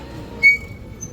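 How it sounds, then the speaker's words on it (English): A brief, thin brake squeal from a passing vehicle on a street in Benidorm, Spain, rises once and fades within half a second over quiet background noise. "and squeaky brakes again"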